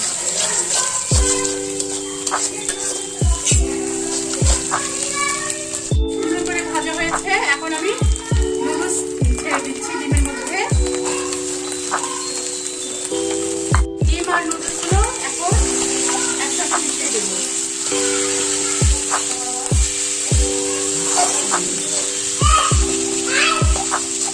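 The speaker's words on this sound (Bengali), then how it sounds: "এখন আমি পেঁয়াজ মরিচের সঙ্গে ডিমগুলো সুন্দর করে ভেজে নেবো" Eggs frying with onion and chili in a pan for egg noodles, a steady loud sizzle with regular scraping stir strokes and spatula taps throughout, close up, with a steady tone running underneath.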